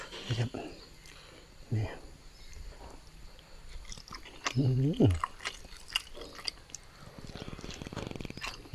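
Close, wet chewing and slurping while eating eel soup cooked with young tamarind leaves and herbs, soft mouth sounds in uneven bursts mixed with someone talking.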